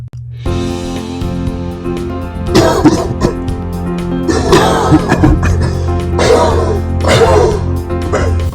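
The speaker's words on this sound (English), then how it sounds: "Have you got a bad cough?" Loud, harsh coughing fits repeating in rough bursts, close up, over a steady low droning background.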